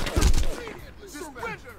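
Gunfire in the video game 25 to Life, a loud burst of shots at the start that quickly fades into echoing debris and ambience, with voices mixed in.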